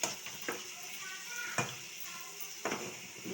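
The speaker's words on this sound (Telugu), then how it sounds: "ఇవి కొంచెం ఫ్రై అవనివ్వాలి." Spices and tomato frying in a pan for a baby corn curry give a steady, close sizzling hiss, broken by three sharp stirring scrapes spaced about a second apart.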